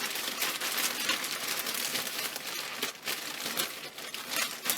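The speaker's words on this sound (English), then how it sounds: "you can hear me rustling off camera" Paper wrapping crinkles and rustles just off to the side in a quiet room, a continuous soft crumpling with brief pauses, fairly faint and with no talking.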